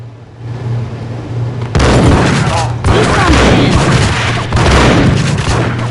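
Heavy gunfire bursts out in a Max Payne video game shootout with Rico Muerte, a loud, dense volley of shots and booms that keeps going for several seconds after a quieter ambient start.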